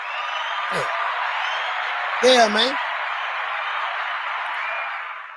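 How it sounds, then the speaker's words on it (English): Audience applause fills the room as a steady wash of clapping, with someone briefly talking over it partway through. "let's give everybody a round of applause"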